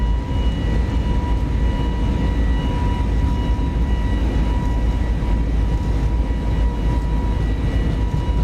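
Airliner engines roaring steadily and loudly through a takeoff roll, A320neo with LEAP-1A turbofans in a flight simulator sound pack; a continuous dense rumble with a faint whine on top, no voices.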